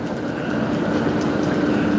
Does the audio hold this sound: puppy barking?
no